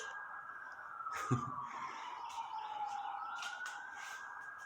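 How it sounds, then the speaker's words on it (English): A police siren wails at a distance outside an abandoned facility, sliding slowly down and back up in pitch over faint background noise, with a brief thump partway through. "Don't worry, those sirens are not for me"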